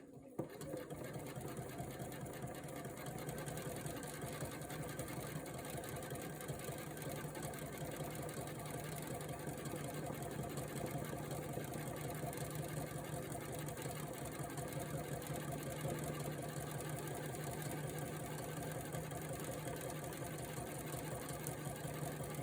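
Sewing machine stitching a swirl pattern with contrasting thread, a faint steady rapid whirring hum running continuously throughout, quiet and close with no talk over it.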